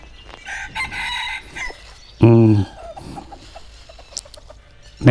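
A rooster lets out a single loud, close crow midway through, surrounded by clucking chickens and other farmyard bird calls.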